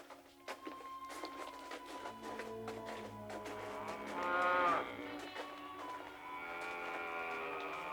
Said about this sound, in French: Qu'est-ce qu'elles ont à meugler comme ça?